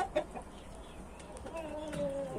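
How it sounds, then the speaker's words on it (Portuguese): Bearded speckled hens and other backyard farm chickens cluck softly at a moderate distance in a poultry yard, short scattered calls over light background noise. "Aqui tá a galinha barbuda, pintada, galinha muito bonita."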